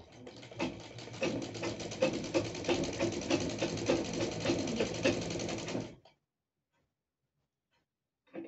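A sewing machine stitches a strip of organza fabric onto a puff sleeve, running in a steady rapid mechanical patter for several seconds before stopping abruptly into silence.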